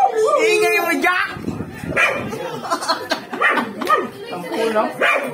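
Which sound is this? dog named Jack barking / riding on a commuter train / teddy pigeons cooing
dog named Jack barking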